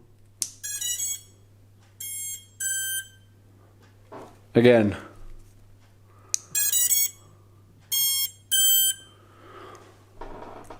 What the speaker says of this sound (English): now I'll just let you listen to the startup sound, because that's not usual